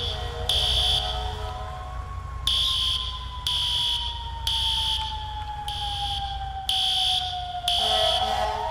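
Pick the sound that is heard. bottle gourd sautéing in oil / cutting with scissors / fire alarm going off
fire alarm going off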